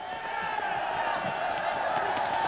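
A dense crowd of people boarding a train makes a steady, continuous murmur of many voices and bustle, moderately loud and even throughout with no single voice standing out.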